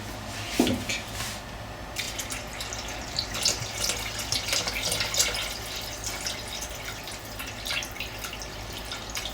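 Tap water runs and splashes into a Vorwerk Thermomix TM6 bowl, a continuous close trickle broken by drips and small knocks, with no talking.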